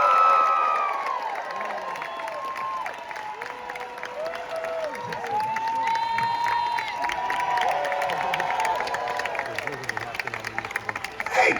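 A large crowd cheers and shouts in Hall H at San Diego Comic-Con, a loud roar of whoops, whistles and clapping swelling and holding for the full length.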